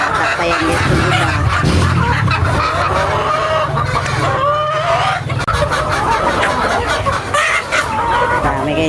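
A flock of native chickens clucks busily nearby, with overlapping calls and squawks, while someone talks over them throughout.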